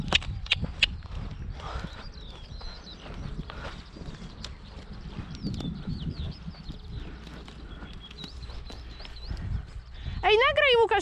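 Hoofbeats of a horse being lunged in a bridle thud unevenly close by, mixed with a trainer's voice and occasional bird chirps in the background.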